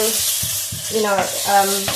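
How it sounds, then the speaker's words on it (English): Small chicken pieces sizzle and crackle in a hot pan over high heat, loud and close, with a voice talking over the frying at intervals. "we're going to have it quite high, and then so it's making a nice noise, and let it sizzle"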